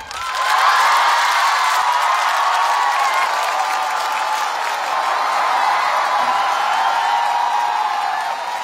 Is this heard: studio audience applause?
yes